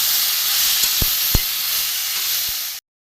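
Soaked chickpeas sauté in a hot pan for ghugni, a steady loud sizzle broken by a few sharp spatula taps before it cuts off abruptly.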